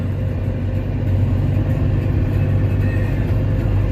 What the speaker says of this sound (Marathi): किती वेळ झाला आपण निश्चित गाडी चालवतोय